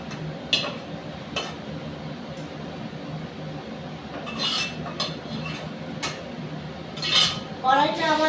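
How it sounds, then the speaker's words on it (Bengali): Food is poured from a wok into a metal plate, with scattered clinks and scrapes of metal utensils and dishes. They sit over a steady background hiss, with a louder rattle near the end. "থালাটার মধ্যে আমি ঢেলে নিচ্ছি।"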